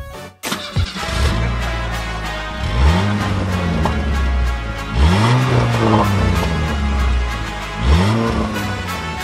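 A car engine revs hard in repeated swells, three rising and falling surges of mid-pitched roar spaced a couple of seconds apart. The sound is close and loud throughout.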